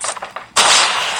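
A gunshot in a shooter video game: a sharp burst that cuts in loud partway through and rings on as a dense, sustained blast after softer scattered sounds.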